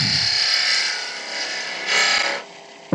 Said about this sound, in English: And now I'm going to shape this into an acorn. I'm using a 1/2 inch spindle gouge, Henry Taylor again.